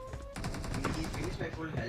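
Rapid automatic gunfire rattles in a video game, a fast, even burst of close shots that continues for most of the moment.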